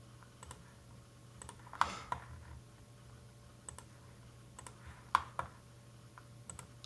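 Computer mouse clicking, a handful of quiet, sharp, isolated clicks spaced irregularly over a faint background hum, close by.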